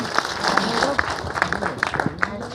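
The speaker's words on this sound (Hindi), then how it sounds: "हाँ तो एक बार जोरदार ताली इनके लिए।" Seminar audience gives scattered applause that stays under ongoing talk and chatter, with sharp claps popping out every so often.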